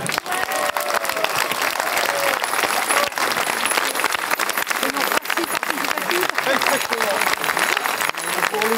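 Dense, sustained applause from a crowd after a unanimous vote at a residents' meeting about Roissy and Orly airports, loud and continuous, with voices mixed in.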